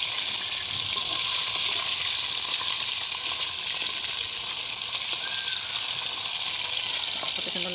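Fish rubbed with salt and turmeric sizzles and crackles steadily in hot oil, a bright continuous frying hiss heard up close with faint stirring and no talking.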